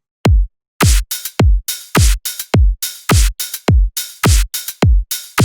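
A punchy drum machine beat plays: booming kicks and sharp snares interlocked with quick ticking hi-hats, loud, dry and evenly paced.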